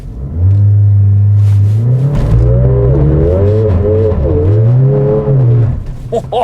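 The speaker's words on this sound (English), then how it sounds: "Let's go to manual mode and let's launch it" A Mercedes-AMG CLA 45 launching from standstill in manual mode, its engine holding a loud steady drone before rising and falling through revs, close and alone.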